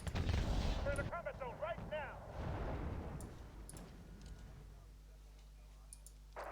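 Gunfire at a forward operating base in the war strategy game Wargame Red Dragon: heavy booming shots up front fade into a low, distant rumble, with a voice briefly talking over them.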